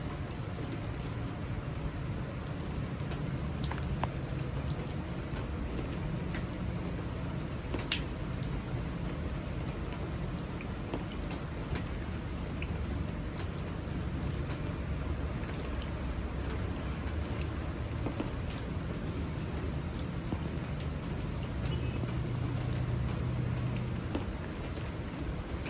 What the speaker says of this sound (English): There it is, it's raining.